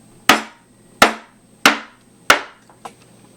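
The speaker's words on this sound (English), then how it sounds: "And again, I'm going to tap it on my surface." A candle container filled with sand wax is tapped on a hard work surface, four sharp, evenly spaced knocks close by, followed by a fainter fifth tap.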